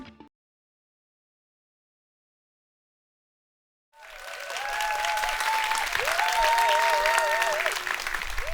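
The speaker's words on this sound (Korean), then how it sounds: "이런 우레와 같은 박수 함성은 정말 처음 받아보는 느낌이기도 합니다." After a few seconds of silence, an audience at a talk event bursts into loud applause and cheering, with whoops and shouts rising over thick, steady clapping that builds and holds.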